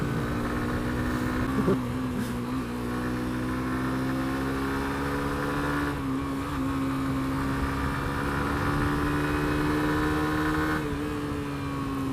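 Suzuki GSX-R125 sport motorcycle engine, a 125cc single, holding a steady, fairly loud drone with slight pitch rises as it pulls, heard close and alone for about twelve seconds.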